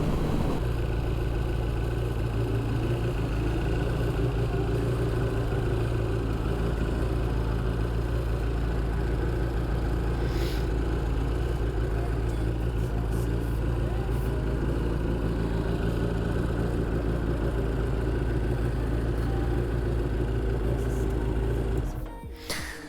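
A 2003 Suzuki Hayabusa motorcycle with a small tinted windscreen cruises on a highway, its steady engine drone and wind rush continuous and loud for most of the ride before cutting off near the end.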